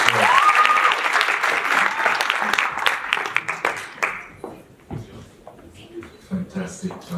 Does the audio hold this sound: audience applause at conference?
yes